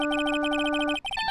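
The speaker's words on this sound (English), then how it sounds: "And I bet this was the ringtone that caused it." Electronic phone ringtone from the Phoenix Wright: Justice For All video game, a rapid repeating beeping melody that plays loudly on its own and then breaks into a few higher chirping tones.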